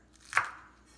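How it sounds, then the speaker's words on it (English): A single crisp knife chop through an onion on a cutting board, sharp and close, fading quickly into quiet. "You're gonna have a nice knife, and then you want to cut it an inch apart"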